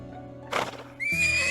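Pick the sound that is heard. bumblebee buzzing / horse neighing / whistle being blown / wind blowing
horse neighing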